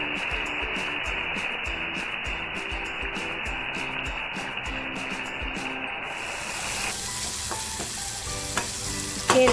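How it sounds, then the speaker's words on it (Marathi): Moth beans tipped into hot chili-flavoured oil and frying, a loud, steady sizzle that runs continuously and shifts slightly as the beans settle and are stirred. "आता जी मटकी घेतली आहे ना ती मटकी टाकते"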